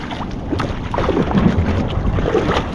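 Strong sea waves slap and rush against a small fishing boat out on open water, a steady churning wash with wind buffeting the microphone, close and continuous.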